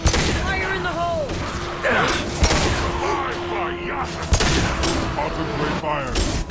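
Gunfire rattles through a Mass Effect 2 firefight in bursts and single reports, with booms and mechanical clatter mixed in, loud and close, while voices call out under the shooting.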